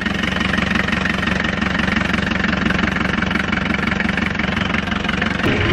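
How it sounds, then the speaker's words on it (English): A car engine idles steadily just after starting, a close, loud, even rumble with a regular low pulse that holds throughout and dips briefly at the very end, with no talking over it. "The engine has just started."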